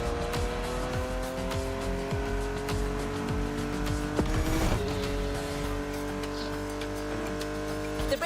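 Porsche 911 GT3 Cup race car lapping a track in a racing game, its engine holding steady high harmonics with shifts and a brief tire squeal midway, loud and continuous throughout.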